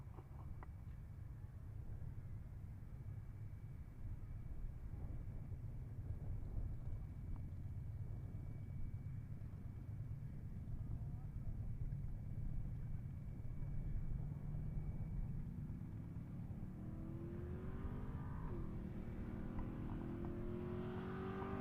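A Buick-powered Buick G-body wagon drag races down an eighth-mile strip at Pueblo Motorsports Park, its engine a steady, loud roar that climbs into a rising rev near the end of the run.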